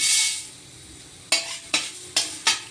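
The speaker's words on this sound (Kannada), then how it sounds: "ಈಗ ಇದಕ್ಕೆ ನಾನಿವಾಗ ಅರ್ಧ ಸ್ಪೂನ್ ಮೆಂತ್ಯ ಹಾಕ್ಕೋತಾ ಇದ್ದೀನಿ" Half a spoon of fenugreek seeds added to a hot pan, an opening hiss of sizzling that fades, followed by four sharp separate taps spaced evenly apart.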